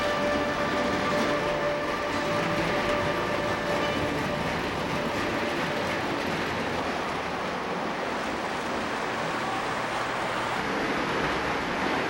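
A Christmas toy train runs steadily along its track, a continuous close rumbling clatter that holds at an even level throughout, with faint tonal whines above it and no voices.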